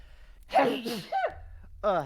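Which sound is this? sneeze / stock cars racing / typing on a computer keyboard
sneeze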